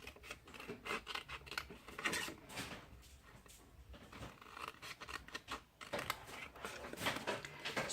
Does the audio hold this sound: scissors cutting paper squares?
yes